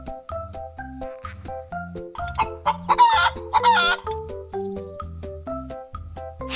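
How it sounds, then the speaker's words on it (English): A hen clucks and squawks in a burst of busy calls over a bouncy, stepping children's tune, with no talking. "This is a hen."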